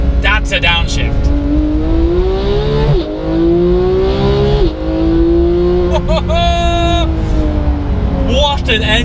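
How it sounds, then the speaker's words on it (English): A Porsche 991 GT3 engine with a Sharkwerks bypass exhaust revs and drops through downshifts with crackling exhaust blips, loud and close, with a voice talking over the start. "And then when we downshift, that's a downshift."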